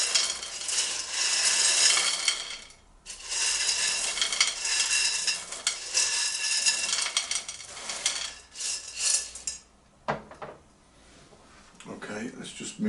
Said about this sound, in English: I'll make a mixture in this basin, so I'll transfer some of the clay and bark into this here